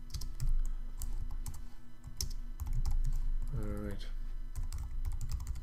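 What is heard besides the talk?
typing code text on a computer keyboard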